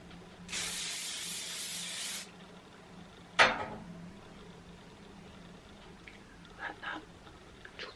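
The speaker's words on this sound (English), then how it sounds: "So I'm going to just go over and hairspray it once more." Hairspray misted onto styled hair, one sustained hissing burst lasting under two seconds, close and clear, followed by a sharp click and faint handling sounds.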